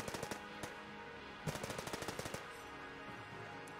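Rapid gunfire in Enter the Gungeon as the player shoots to destroy a chest, two quick bursts of rattling shots under steady game music and effects, fairly faint.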